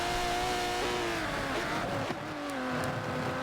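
Aston Martin DBR9 race cars at Brands Hatch in a racing video game, engines droning in smooth tonal whines that shift pitch as gears change, a loud continuous engine note close up with no voices.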